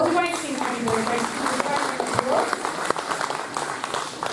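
Audience applause at a workplace safety subcontractor forum, a steady dense wash of clapping lasting throughout with voices mixed in beneath.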